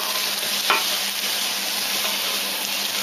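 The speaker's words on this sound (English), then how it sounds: "now we're just going to crisp the bacon up" Bacon crisping in a pan for coq au vin, a loud continuous hissing sizzle with a faint low hum underneath and a single brief clink near the start.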